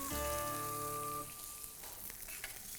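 Thin surmai or rawas fish frying on a tawa give a soft, continuous sizzle with light crackles. It starts under a brief tonal hum that fades out early, then stays faint and close with no talk.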